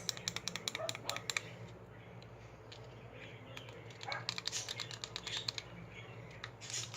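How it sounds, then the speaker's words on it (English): Rapid, crisp plastic clicks from the buttons of an XDesign advanced fidget cube, pressed in quick irregular bursts close to the microphone over a soft background hiss. "Really like the clicking noises."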